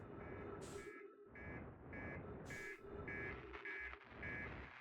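The ship's hull damage alarm in Outer Wilds sounds loudly as a steady series of repeating electronic beeps over a low engine-like rumble.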